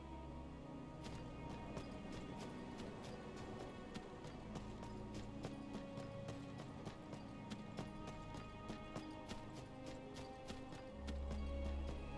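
Horse hooves in Skyrim, a steady clip-clop of galloping hoofbeats that runs throughout, fairly faint under game ambience, with a louder low rumble near the end and no talk.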